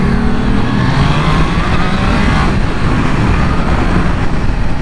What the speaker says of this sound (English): Oh yeah, it's got that nice inline acceleration. Very smooth, very quick once you get it past the mid.